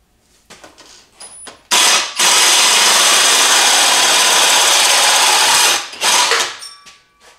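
A tubing notcher loudly cuts into 2.5-inch tubing for a turbo log manifold, grinding steadily for about four seconds after a brief start-up, with short bursts of tool noise before and after.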